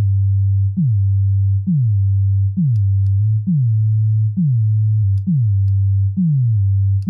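An 808-style bass synth patch built in Logic Pro's Alchemy plays as a deep sustained tone. Each of about eight evenly spaced notes starts with a short downward pitch drop and then holds a steady low hum.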